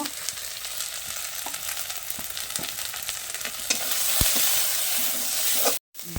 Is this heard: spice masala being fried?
yes